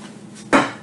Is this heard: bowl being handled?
yes